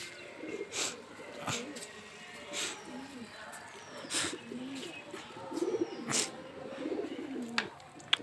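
Pigeons on a rooftop in the evening coo softly and repeatedly at moderate distance, with a person talking over them and occasional faint clicks.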